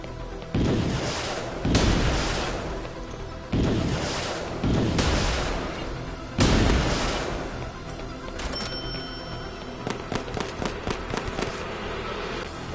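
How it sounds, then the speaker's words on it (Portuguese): Cannon fire in the video game It Came from Space and Ate Our Brains: five heavy booms spaced about a second apart, followed by a rapid clatter of smaller crackling impacts. "Olha, um canhão aqui, rapaz."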